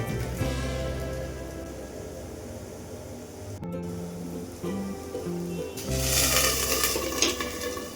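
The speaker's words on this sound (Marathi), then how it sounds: "आता ते आपल्याला दोन्ही बाजूनी व्यवस्थित भाजून घ्यायचे आहेत." Potato and sweet potato cutlets shallow-frying in a hot pan give a steady, close crackling sizzle like light rain. Faint background music tones sit beneath it, and the sizzle grows brighter near the end.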